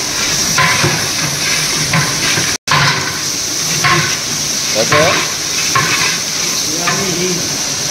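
Spiced food being stirred in a large pot for a village temple feast, with loud scraping strokes over a constant sizzle and hiss, briefly cut by a short gap.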